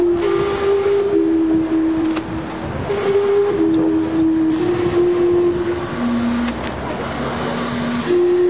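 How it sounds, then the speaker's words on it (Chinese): The old steam clock in Gastown, Vancouver, sounds its steam whistles in long, loud, sustained tones that shift in pitch through a repeating melodic chime. "每隔15分钟就会发出叫声的古老蒸汽钟，再度吸引了围观的群众。"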